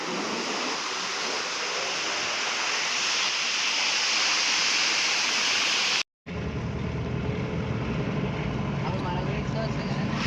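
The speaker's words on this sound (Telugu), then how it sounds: "ఫుల్ ప్రెషర్ అంటే చాలా ప్రెషర్తో వస్తున్నాయి వాటర్ మొత్తం" Water rushes at full pressure over the Mallannagandi reservoir waterfall, a loud, continuous roar that breaks off briefly and then resumes slightly thinner.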